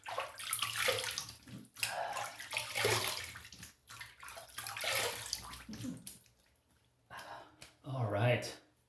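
Water splashes and gurgles in bursts, near and fairly loud, as a face is rinsed at a sink or tub after a shave with soap and a boar brush, broken by brief pauses and a gasp.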